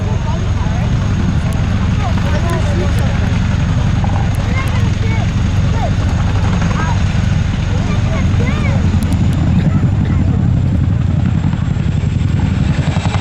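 A Royal Air Force Boeing Chinook HC.6 tandem-rotor helicopter flies at the Cosford air show, a loud constant rotor thud and engine roar, with a public-address commentator speaking over it throughout.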